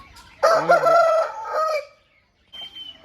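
A heavy breeding rooster lets out one loud, drawn-out crow close by, followed by a brief pause and a fainter call at the end.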